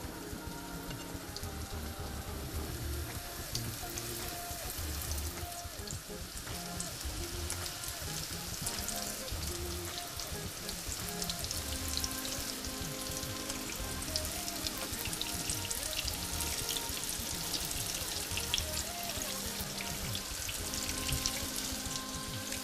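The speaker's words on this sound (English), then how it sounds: "I'll just start frying my Kotlet that I just shaped" Kotlet patties, freshly shaped meat patties, sizzle and crackle in a pan over medium-high heat, a continuous close spitting hiss with occasional louder pops.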